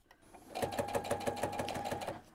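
A sewing machine stitches through thick layers of fabric in a quick, even rhythm, close by and fairly quiet, with a labored, clunky tone.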